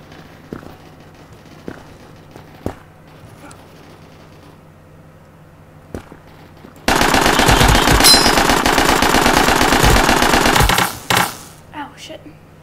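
Assault rifle gunfire in the first-person shooter Krunker erupts as a long, loud, rapid automatic burst of about four seconds, preceded by a few scattered isolated clicks and shots and trailing off into single pops.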